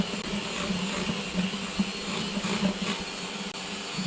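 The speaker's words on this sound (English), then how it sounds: "I'm just going to whisk this together." Electric hand mixer beats apple and honey cupcake batter, a continuous whirring motor drone with small fluctuations and light rattling as the beaters move through the bowl, with no talking.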